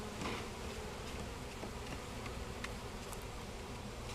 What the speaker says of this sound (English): we're going to brush a few bees in here